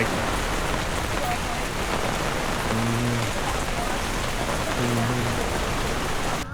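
Steady rain pours down in a dense, continuous hiss, with a faint voice briefly audible beneath it.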